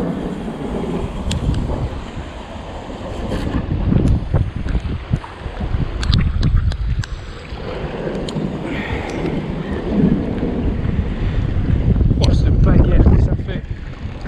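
Gusty wind rumbles across the microphone in uneven surges after a storm, beside the Saône river while carp fishing, with splashing and scattered clicks close by.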